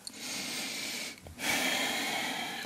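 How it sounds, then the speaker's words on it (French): A slow, deep breath during a yoga class, with a long steady breathy inhale and exhale close to the mic, broken by a brief pause midway, with no talking. "On prend des grandes respirations ici"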